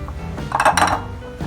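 A spoon or whisk knocks and scrapes against a bowl while maida and cornflour are mixed for crepe batter, a short cluster of close clinks rising then fading over a quiet background.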